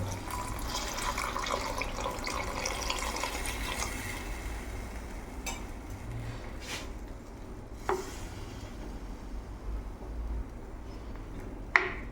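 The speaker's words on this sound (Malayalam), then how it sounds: "ആവശ്യത്തിന് വെള്ളമൊഴിക്കുക" Water pours steadily into a cooking pot for a spicy tuna fish curry, a continuous splashing rush with a few sharp clinks of the pot near the end.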